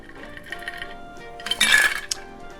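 A daiquiri cocktail is single strained into a glass: a brief clink of glass and ice followed by a short, close splash of pouring liquid, then stillness.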